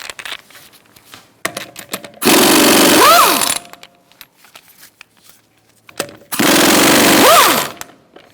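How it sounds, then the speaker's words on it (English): An impact wrench with a 19mm socket zips off wheel nuts on a 2012-2018 Ford Focus in two loud, close bursts of about a second each, with quiet clinks and handling between them. "Using a 19mm socket, we're going to remove our wheel."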